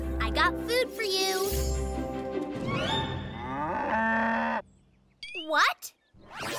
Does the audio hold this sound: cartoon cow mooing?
yes